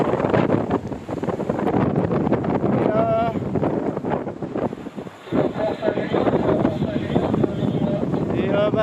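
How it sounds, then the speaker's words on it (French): Freshening wind roars across a racing sailboat passing in the lee of Belle-Île, a steady loud rush with buffeting gusts on the microphone, and a voice faintly present beneath it. "Bah, le vent est enfin monté."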